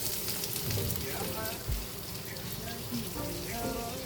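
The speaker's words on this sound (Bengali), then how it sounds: "তারপর প্যানে তেল গরম করে পেঁয়াজ কুচি দিয়ে দিলাম।" Chopped onion fries in hot oil in a pan for pigeon bhuna, a dense, steady sizzling crackle close by with a few louder pops and faint background music.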